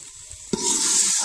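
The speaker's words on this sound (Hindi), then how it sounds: "तो ये मैं डाल रही हूँ इसमें घी।" Ghee hits a hot pan for a sarson ka saag tempering with a sudden burst, then a loud, steady sizzle that continues without any talking.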